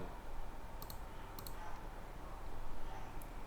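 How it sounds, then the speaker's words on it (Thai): A computer mouse clicks a few times while someone browses a stock list, giving faint, sharp, close clicks over a steady background hum. "ลองคลิกเข้าไปดู"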